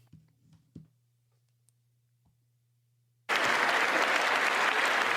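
Applause for the State of the Union address erupts suddenly after a few quiet seconds of faint clicks and hum, a dense, loud roar of clapping from a large crowd that continues to the end.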